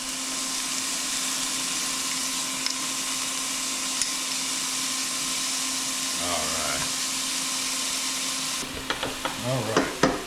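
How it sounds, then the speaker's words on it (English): Onions sizzle steadily in a frying pan for a Chicago deep-dish pizza sauce, a constant close hiss with a few spoon clatters and scrapes near the end. "As soon as those onions cook a little bit, we're going to add the tomatoes."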